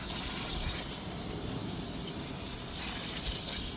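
A continuous hissing spray from an aerosol cleaner can into a vehicle engine, close and steady for a few seconds without pause.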